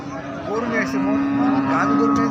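Cows moo loudly at a cattle market, one long drawn-out bellow close by with a second call overlapping, over a murmuring crowd.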